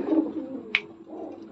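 A racing pigeon in a loft coos in a low, throaty rumble close by, broken once by a sharp click, with faint coos continuing after.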